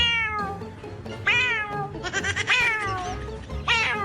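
A cat meows repeatedly in drawn-out, wavering cries, close by and fairly loud, with short pauses between calls.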